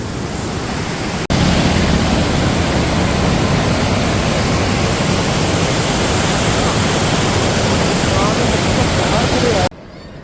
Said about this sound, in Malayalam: ഇത്രയും ഫോഴ്സിലാണ് വെള്ളം പോകുന്നത്